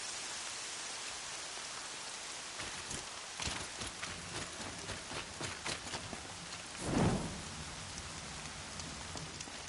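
Steady rain falls in the Horizon Zero Dawn game world, a soft continuous hiss with scattered drop impacts and one louder low rumble midway, no talk.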